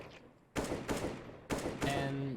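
Gunfire aimed at bots in an aim trainer video game, heard as a few sharp, loud shot bursts separated by short gaps, with a faint voice underneath.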